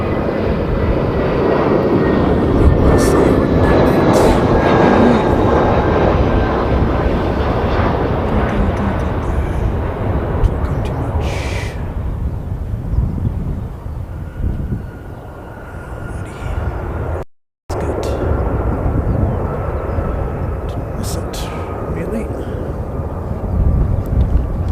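A passenger airplane, flight 535 from Auckland, arriving at an airport, its engine roar loud and sustained before slowly easing and fading, with a voice talking over parts of it.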